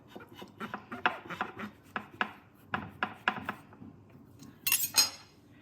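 A knife slices homegrown mushrooms off their growing block in a quick series of close, sharp cutting strokes with light clinks, the strokes irregularly spaced and ending in a brighter scrape.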